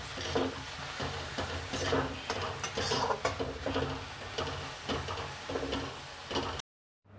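Vegetable spring roll filling with black pepper being stirred in a hot pan, giving a steady close sizzle with repeated scraping and clinking of a spoon against the metal, then stopping abruptly near the end.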